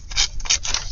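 Scissors trimming paper ephemera for crafting, three quick close snips in a steady rhythm, crisp and fairly loud with no talk.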